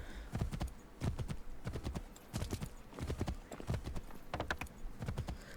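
Horse hooves gallop in rapid clip-clop rhythm in the Assassin's Creed III video game, close and steady with an occasional faint whinny.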